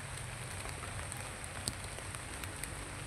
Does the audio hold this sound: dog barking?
no